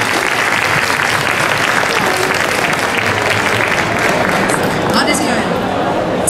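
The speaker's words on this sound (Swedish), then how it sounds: "applåd för Ann Bernhoft" Loud, sustained audience applause after a talk on sugar and health, a thick continuous roar of many hands clapping at steady volume throughout, with some crowd murmur underneath.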